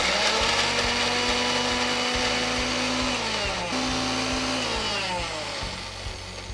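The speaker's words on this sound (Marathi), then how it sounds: "ह्याच भांड्यात आपण आल्ला आणि मिरचीचा ठेसा करून घेऊ" Ginger and green chili ground into a coarse paste in an electric mixer, a loud, steady motor whine and grinding that runs throughout and eases slightly near the end.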